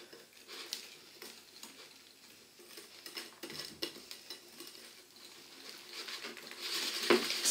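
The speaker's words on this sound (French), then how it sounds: "on va juste mélanger de façon à ce que ce soit bien homogène" A spoon or whisk stirring a cream mixture of milk just brought to a boil in a pan, giving soft, steady scraping and patter with light metallic clinks, close and fairly quiet.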